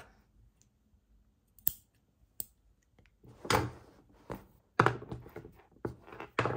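Scissors snip crochet yarn while finishing a crocheted washcloth, with a few isolated sharp clicks early on and then louder, closer clustered snips and handling noises toward the end.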